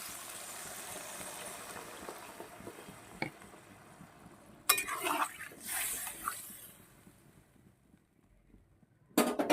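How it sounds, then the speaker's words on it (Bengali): Water is poured into a pan of sautéed young pumpkin curry, making a sudden loud sizzling splash that fades into softer bubbling, with a second sharp burst at the end. "এই পর্যায়ে আমি দিয়ে দেব পরিমাণ মতন জল"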